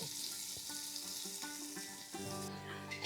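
Onions sizzle and fry in hot oil and ghee for a Malabari chicken biryani, a steady close crackling hiss with a few light stirring clinks and no talk.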